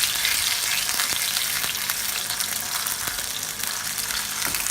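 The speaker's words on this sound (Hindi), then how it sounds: "अब मैं इसी में कबाब फ्राई कर लूँगी। मैंने बिल्कुल थोड़ा सा तेल डाला है" Chapli kebab frying in a pan with only a little oil gives a steady, dense sizzle throughout, with faint scattered pops and light stirring clicks.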